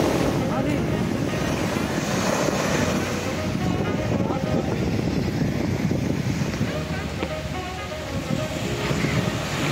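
Wind buffets the microphone while waves break and surge on the shore at Fort Kochi beach, a dense, continuous roar with no clear pauses.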